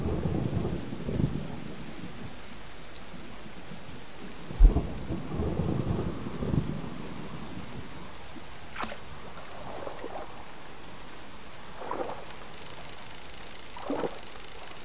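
Steady rain falls during a thunderstorm at a remote fishing spot, with several low thunder rumbles and cracks rolling in at intervals, fairly faint and distant, with no talking.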